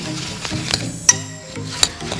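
Crushed Doritos mixed with three eggs into a soupy batter get stirred, giving soft wet squelching and scraping with a few sharp clinks of a utensil against the bowl. The sound is brief and close, with no talk.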